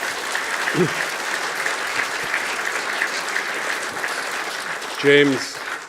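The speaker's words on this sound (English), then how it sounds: "I'd ask for a special round of applause for Shannon Ryan." Dense, steady applause rises from the audience at the opening of the James Fintan Lalor Autumn School, with a couple of brief voices breaking through the clapping.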